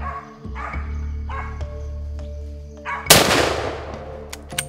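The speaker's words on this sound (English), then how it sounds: "the dog reaches the bull and barks" A hunting dog barks at a nyala bull in dense Mozambique bush. A few sharp barks are followed by a sudden loud rifle shot from a Mauser M 98 Magnum that rings out and decays.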